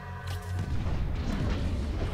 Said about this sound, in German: Dann explodiert das Teil einfach.